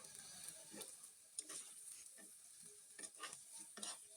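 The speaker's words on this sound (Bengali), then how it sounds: "আমি এখানে আরেকটু নেড়ে চেড়ে যে কাঁচা কলাগুলো মোটামুটি ভাজা হয়নি একটু একটু নরম আছে সেগুলোকে উল্টে দিচ্ছি" Green banana slices frying in a pan as they are stirred and flipped, a soft continuous sizzle broken by repeated scraping stirs, close and quiet, no voices.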